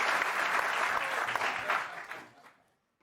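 A burst of audience applause, dense clapping that fades out over about two and a half seconds.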